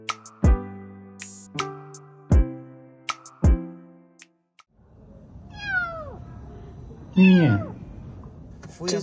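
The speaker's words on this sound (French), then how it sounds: "C'est un vrai miracle qu'ils aient entendu ce chaton." A kitten meows several times in short, rising-and-falling cries, high and fairly close, the later calls louder and more insistent, with a few sharp knocks or taps sounding before the calls and soft rustling underneath.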